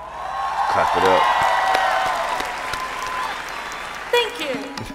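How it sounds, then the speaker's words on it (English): An audience claps and cheers during a TikTok Awards Indonesia 2023 performance, with sustained applause and crowd noise beneath someone talking over it, then a brief louder burst near the end. "Clap it up."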